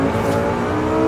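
Audi R8 in Forza Horizon 5 on Xbox Series X, its engine holding a loud, steady, close drone with a rich layered tone and no voices.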